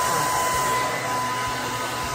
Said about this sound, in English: I'm gonna use the blow dryer and dry it